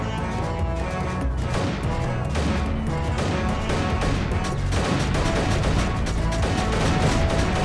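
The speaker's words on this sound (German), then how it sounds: "Und jetzt wird hier eine super Luftschlacht stattfinden" Continuous dense gunfire and explosive crackle from an air battle in the video game Creeper World 3, rapid overlapping shots rattling without pause throughout.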